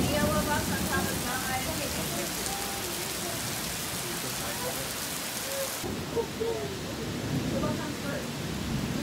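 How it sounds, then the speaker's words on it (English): Steady rain patters on surfaces along a long-distance hiking trail, a dense continuous hiss with scattered droplet ticks, while a voice speaks in the background partway through. "Rain just follows us everywhere."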